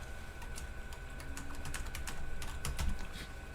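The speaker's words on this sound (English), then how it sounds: "I'm up here typing into this terminal." Fingers tap quickly on a computer terminal keyboard connected to an Altair 8800 running CP/M 2.2, a faint, uneven patter of light keystrokes under a steady background hum.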